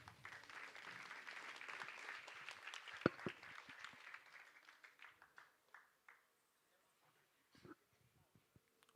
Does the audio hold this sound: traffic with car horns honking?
no